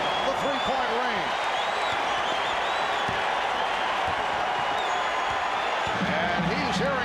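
Basketball arena crowd at a 1994 NBA Finals game between the Houston Rockets and New York Knicks, a dense roaring crowd noise swelling under a broadcaster's steady play-by-play commentary.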